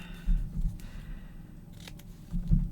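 Scissors trim in short, crisp snips close by, a few quick cuts clustered at the start and again near the end with quieter handling between.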